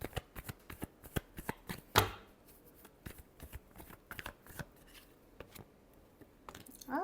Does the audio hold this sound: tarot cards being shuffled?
yes